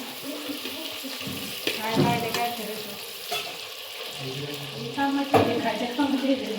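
Tomatoes, garlic, ginger, whole spices and chillies fry and get stirred in a pan for dum biryani, a soft sizzle broken by a few scraping stirs and clinks, with someone speaking over it.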